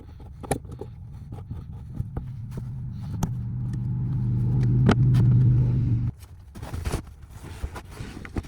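A Lexus engine idles and hums under scattered thumps and handling noises, swelling slightly as the car is moved, then cutting off abruptly with lighter clatter after.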